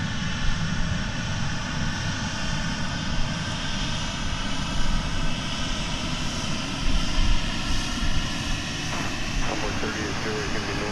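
An Aeromexico Embraer 190 jet taking off at an airport, a loud, continuous roaring engine rumble with steady broadband noise that holds throughout, with a voice talking over it.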